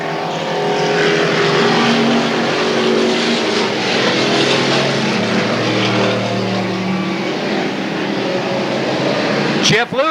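Hot stock race cars roar around Cowtown Speedway in 1990, a dense, loud, continuous engine howl as the pack circles, with a commentator talking over the noise.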